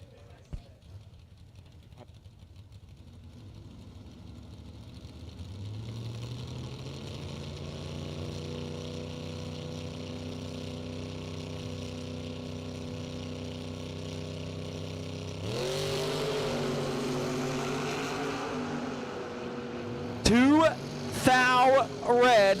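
A 1967-bodied Camaro drag race car at a Labor Day drag event, engine idling, then rising to a louder steady drone before sharp revving bursts near the end.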